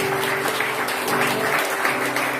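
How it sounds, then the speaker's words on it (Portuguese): A church congregation claps steadily and fairly loudly throughout, a dense, continuous applause with no break. "Bora aplaudir mais forte sempre"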